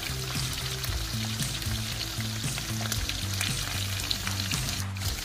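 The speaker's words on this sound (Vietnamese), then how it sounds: "Còn mình mới làm xong mà thèm ăn quá nó chiên liền đó, nó hơi bị văng một chút." Dried pineapple fish frying in hot oil in a home kitchen, a steady loud sizzle with crackling spatters and pops throughout, with no voices.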